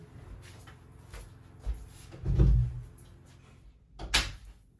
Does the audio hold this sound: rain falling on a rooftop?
no